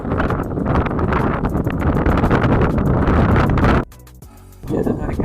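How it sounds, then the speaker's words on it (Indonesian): Strong wind at an outdoor fishing spot buffets the microphone in loud, continuous roaring gusts, briefly dropping away near the end before surging back. "walaupun anginnya kencang"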